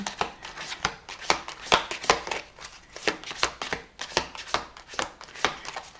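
Rapid riffling and soft slaps of a deck of cards being shuffled, repeated bursts in an irregular rhythm, close by and fairly quiet.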